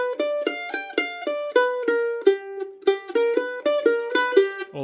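A mandolin plays a quick bluegrass lick built on the flat third and flat seventh, bright picked notes in a steady, even rhythm, close and clear with no talking.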